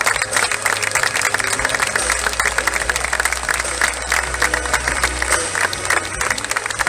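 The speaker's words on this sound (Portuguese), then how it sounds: "uma grande salva de palmas para todos" Dense, steady crowd applause fills the air at a riverside village festival in Arcos de Valdevez, continuous clapping with a low engine-like hum underneath.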